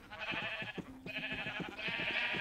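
Pink sheep in Minecraft bleat in a steady, buzzy, wavering drone, with a brief dip partway through before the bleating resumes at the same close, moderate loudness.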